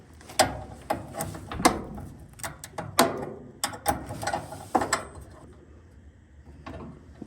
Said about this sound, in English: Next, we're going to tighten up the bolt.